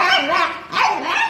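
A dog barks and yips in two quick bursts separated by a short pause, loud and close, with an excited, slightly whining quality.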